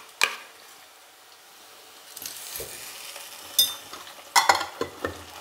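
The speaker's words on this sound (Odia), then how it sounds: "ଏବେ ଆମେ ଭଲକି ମସଲାଟିକୁ କଷିବା।" Onion masala with ginger-garlic paste sautéing in a pan for a peanut potato curry: a quiet low sizzle broken by several sharp spoon scrapes and clinks against the pan, with a cluster of stirring knocks toward the end.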